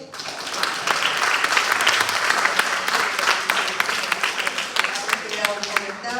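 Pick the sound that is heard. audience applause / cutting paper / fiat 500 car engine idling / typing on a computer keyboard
audience applause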